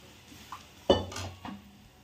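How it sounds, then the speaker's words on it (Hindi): Boiled peas and their cooking broth tipped into a pot of masala while making a pea curry, giving a sudden splash and clatter against the metal pot, then a second smaller pour, close and fairly quiet. "अब इसमें हम जो गला के रखे हमने वटाने वो डाल देंगे, इसका पूरा शिरवा भी डाल देंगे"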